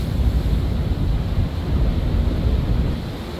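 Choppy Atlantic Ocean seas and wind on deck of a ship, a steady broad rush of waves and wind buffeting the microphone, continuous and fairly loud with no talking.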